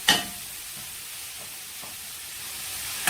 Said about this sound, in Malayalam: ഇത് നമുക്കൊരു ഗോൾഡൻ കളർ ആവുന്ന വരെ വഴറ്റിയെടുക്കാം